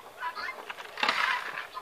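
Loud chickens calling and clucking outdoors in a garden yard, a busy overlapping chorus of fowl voices that swells in the middle, with no talk over it.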